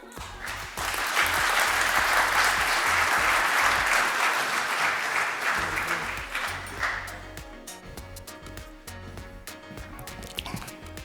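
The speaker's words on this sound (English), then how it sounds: "So let's please welcome him with a big round of applause." Loud, dense applause greets an official at the 2016 FIBA Olympic Qualifying Tournaments draw ceremony, holding strong for several seconds before thinning out and fading to quiet room sound.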